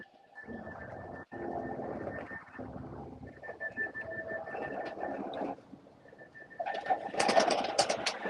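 Racing pigeons in a loft during a live race broadcast give sustained low throaty coos, with a mechanical whirring and rising busier fluttery noise toward the end.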